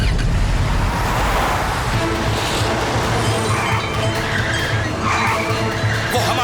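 A cartoon car tearing along in a chase, its engine roaring loud and continuous with tire squeal and skidding layered over a dense roadway rumble.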